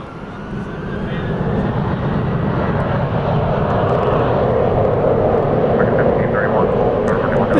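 A United Boeing 737 MAX 8, arriving as the flight from Boston, builds from a rising engine roar into a loud, close, sustained thrust noise at night at DFW Airport, with talk running underneath.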